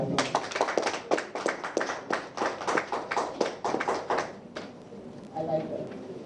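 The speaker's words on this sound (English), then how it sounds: "Another round of applause." Audience at a live election news event giving applause: several seconds of dense, rhythmic clapping at moderate distance, dying out into a voice near the end.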